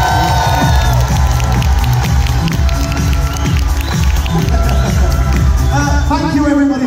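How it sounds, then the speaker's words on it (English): A holiday-camp crowd cheers and shouts for the stage manager, a lively burst of voices and scattered claps filling the room, with someone speaking over it. "He thinks he deserves a cheer,"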